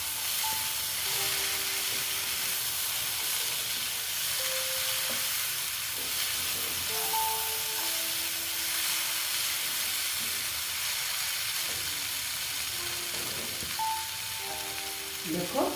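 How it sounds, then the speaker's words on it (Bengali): Ghugni, a spiced pea curry, sautéing in a pan with a steady hiss and sizzle of steam throughout, with a voice talking faintly over it. "এটার সঙ্গে একদম সুন্দর করে কষিয়ে নিচ্ছি।"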